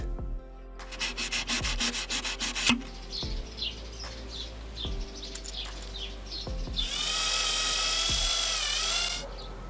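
Thin 0.5 mm brass sheet is cut and filed to shape a holder for a pike fishing rig, with rhythmic rasping strokes, scraping, and a brief harsher grinding burst near the end, close up with no voices.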